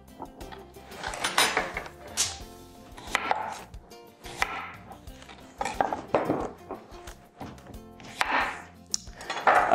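A knife cuts red potatoes into pieces on a board, giving a run of irregular, close chopping thunks in loose bursts, with occasional clatter of dishes and no talking.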